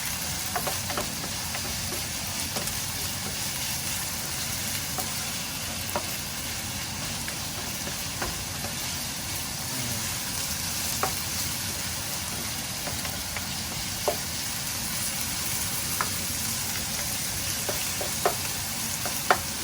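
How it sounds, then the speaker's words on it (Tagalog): Beef with onion and garlic sizzles steadily in a hot pan while a utensil stirs and scrapes now and then, with small clicks over a constant frying hiss and no voices. "at haluin lang natin siya. Kaya natin ng maluto ng konti sa sibuyas at bawang."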